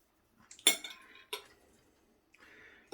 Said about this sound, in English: Let's get a fork.